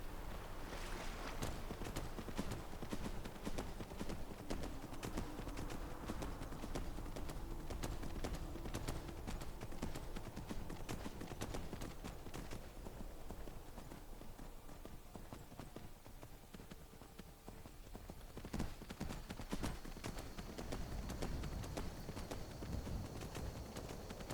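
Rapid hoof clip-clops from a mechanical horse ridden in Skyrim patter on steadily, mixed into a loud, dense game soundscape of music and ambient noise.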